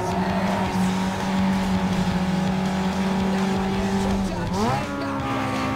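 Racing car engine from Need for Speed Underground 2 drones loudly and continuously, its pitch holding steady then dropping and climbing again as it shifts, with faint tire squeal and a voice talking over it.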